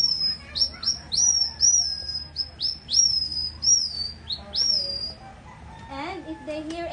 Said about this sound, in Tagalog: they have their own technique to attract or call the birds